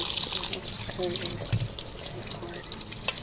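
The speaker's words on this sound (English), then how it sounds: "we'll go to the sink and rinse it" Tap water runs steadily into a kitchen sink while strained cottage cheese curds are rinsed, a continuous splashing trickle with a few brighter drips, and a person speaks over it.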